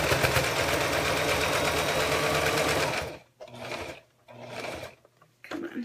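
A sewing machine runs fast, stitching fabric to put in a zipper, in a loud steady whir that stops after about three seconds, then starts again in short bursts, with a brief spoken word.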